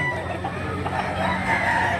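A big, tall three-year-old rooster crows and clucks, quiet and somewhat distant, over a constant background hum.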